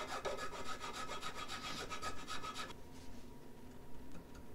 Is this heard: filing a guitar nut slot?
yes